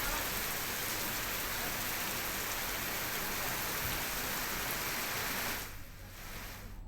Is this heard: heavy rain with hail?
yes